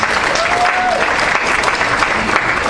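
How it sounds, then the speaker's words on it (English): A large audience applauds graduates at a fall graduation ceremony, a loud dense wash of clapping that fills the hall steadily with a faint cheer in the crowd. "Let's give them one more round of applause."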